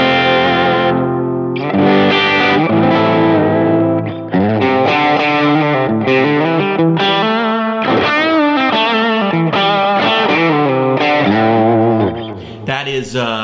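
An electric guitar played through a Line 6 Helix with an EQ tilt rings out with driven, chorused tone, strummed chords and lead notes sustaining loud and close without pause.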